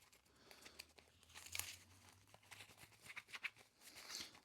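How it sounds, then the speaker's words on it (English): A deck of Magic: The Gathering cards is shuffled by hand, giving soft, close riffling and crinkly paper flutters in uneven bursts, faint and alone. "Just giving a little shuffle to the deck."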